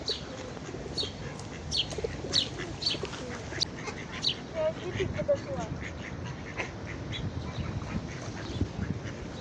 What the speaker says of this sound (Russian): Ну что, кормим наших этих уточек, голубей.